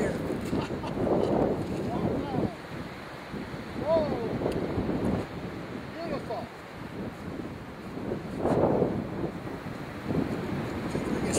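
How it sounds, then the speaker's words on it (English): Strong gusty wind buffeting the microphone at Lake Kampeska in South Dakota, a loud rushing roar that swells and fades in gusts, with voices talking intermittently beneath it. "South Dakota wind every day."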